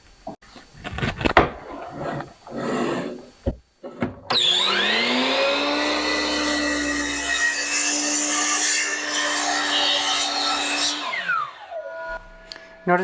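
A saw trims and squares off the end of a cherry end grain cutting board: a few short rasping strokes, then a loud, steady high whine of the blade cutting through the wood for several seconds before it winds down.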